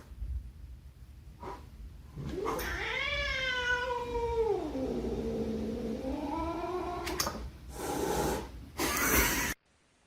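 A cat lets out one long, drawn-out, wavering meow that swoops down and rises again, close and clear, with a few short rustles and bumps before and after.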